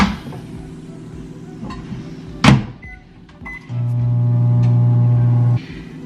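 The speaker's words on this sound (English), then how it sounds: "I'm just going to do it in the microwave." A home microwave oven in Las Vegas heats breakfast food. A sharp click comes first, then after a brief pause a steady loud hum runs for about two seconds and stops abruptly.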